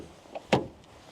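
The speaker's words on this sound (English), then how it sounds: "Let's check out the door sound." The front door of a Deepal E07 electric ute-SUV shuts once with a single firm, solid thud after a faint click, then quiet.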